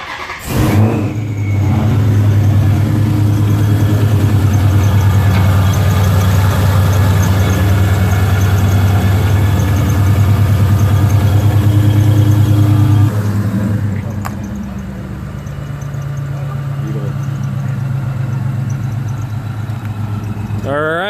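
A 2017 Dodge Challenger Scat Pack with a manual transmission cranks and fires, then holds a loud, deep, rumbling idle close by. After about fourteen seconds it drops to a lower, steadier burble.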